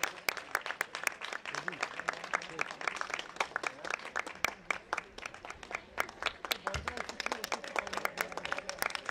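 An audience at a children's Turkish dancing competition claps steadily. The applause is dense and sustained for the whole stretch, and an announcer's voice is faintly heard beneath it.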